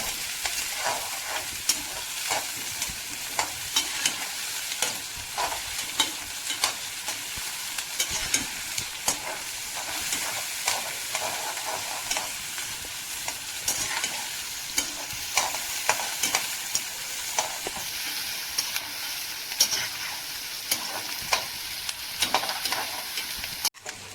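Small shallots sauté in a pan with a continuous bright sizzle, broken by frequent rhythmic clicks and scrapes of a spoon stirring them for a long stretch.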